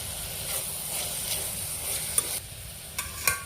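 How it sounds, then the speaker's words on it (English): Sliced onions stirred with ginger garlic paste, salt and turmeric in a hot pan, a soft steady sizzle with a few sharp spoon scrapes and taps near the end. "Then I have added ginger garlic paste, salt and turmeric. Let's mix it."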